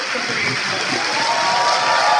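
Audience applause at a Democratic Party of Korea new-member academy event, honoring a senior party member of thirty years; steady, dense clapping fills the short span with some voices mixed in.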